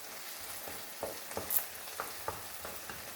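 Tomato paste stirred and fried in a pan for stuffed vine leaves with olive oil: soft continuous sizzle with scattered light scrapes and taps of a spoon against the pan, steady and close, with no talking.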